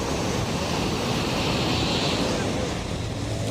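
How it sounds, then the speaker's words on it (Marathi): Sea waves wash steadily at Anjuna Beach on the Goa coast, a continuous loud surf mixed with wind noise and no clear speech. "आणि समुद्राची लाटा पण आवाज मारतले"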